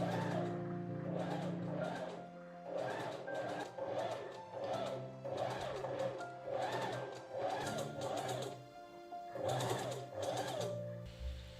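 Sewing machine stitching a 3 mm understitch through a dress facing and its seam allowance, running in repeated bursts of rapid mechanical whirring, each lasting about a second, with short pauses between, loud and close.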